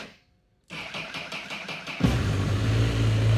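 A Honda CBR 1000 RR litre-class sportbike with about 19,200 km cranks over with a rapid starter chatter after a short silence, then catches and settles into a loud, deep, steady engine rumble close by.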